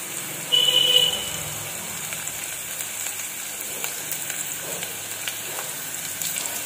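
Ingredients for Maggi masala rice sizzling in a little oil in a pan, a steady soft crackle close by, with a louder burst of hissing near the start.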